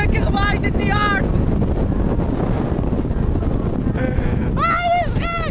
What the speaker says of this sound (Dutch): Oh, het waait echt heel hard.